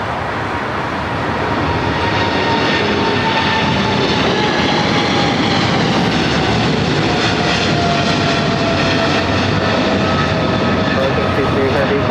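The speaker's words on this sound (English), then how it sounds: "China Cargo Airlines flight 222 heading to Shanghai, rolling down 25 left" A China Cargo Airlines jet, bound for Shanghai, rolls down runway 25 left at LAX, its engines a loud, steady roar with a slowly sliding whine, rising in the first second and holding strong to the end.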